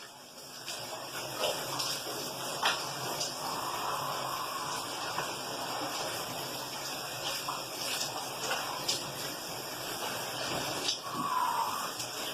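Shower water runs steadily during Islamic ritual bathing, a continuous close splashing hiss with small shifts as the spray hits the body.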